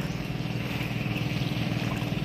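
A boat on the water gives a steady, low, pulsing rumble with wind noise, continuous and fairly close, with no talk.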